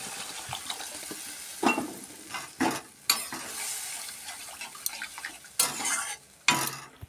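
Curry vegetables sizzle in an oiled pan while a utensil stirs and scrapes them, giving loud irregular scraping bursts over a continuous frying hiss, with no talking.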